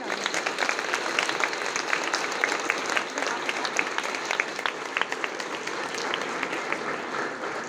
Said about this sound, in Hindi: तो बच्चों, तालियों के साथ इनका स्वागत कीजिए।